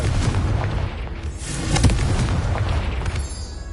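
Confringo fire spell detonating in Hogwarts Legacy on PS5, a booming explosion with a sharp burst near the middle over a dense, rumbling low-end bed, loud and close throughout.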